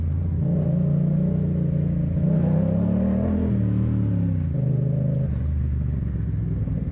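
A motorcycle engine runs steadily on a test ride, its loud low rumble rising and falling in pitch as the rider changes throttle. No voices are heard over it.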